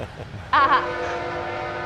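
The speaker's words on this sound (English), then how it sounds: "We got a train coming through." A train horn sounds a loud, short blast that holds steadily over the low rumble of a train passing near a level crossing in the Florence area.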